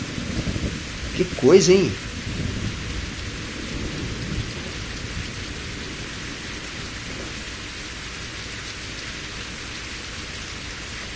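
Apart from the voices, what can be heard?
rain and thunder in the truck game On The Road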